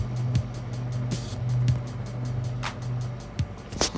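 A car engine in the mobile drag racing game Offroad Outlaws Drag Racing gives a low, steady idle drone with brief revs and clicks, sounding continuously throughout.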